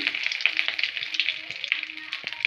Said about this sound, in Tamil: பொரிஞ்சிருச்சு நல்லா பொரிஞ்சு வந்துருச்சு கரு கரு கருவேப்பிலை நல்லா வெந்துருச்சு